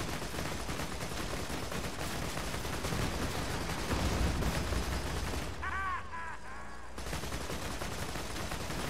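Rapid gunfire in the video game Borderlands 2, a dense continuous burst of shots loud and close for most of the clip, briefly giving way to metallic mechanical ringing before the firing resumes.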